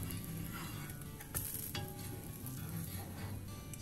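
A cocoa-powder chocolate dosa sizzling on a hot pan after being flipped: a steady soft frying hiss with a couple of light clinks from a utensil on the pan.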